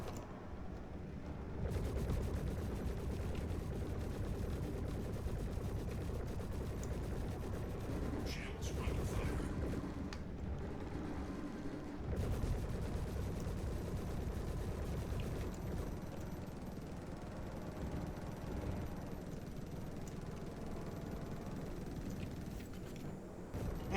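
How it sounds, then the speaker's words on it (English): A stock Gatling gun firing from an Avenger Titan ship in Star Citizen, a long stretch of continuous rapid rattling fire amid dense rumbling game noise, with a voice talking over it. "Actually left the stock Gatling gun on it because I heard they got buffed."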